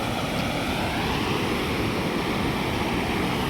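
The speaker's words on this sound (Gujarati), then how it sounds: "નદીજી પાણી તો ઘણું બધું હાલે" A flooded river rushes after sixteen dam gates were opened, producing a loud, continuous broadband roar of turbulent water with no break throughout.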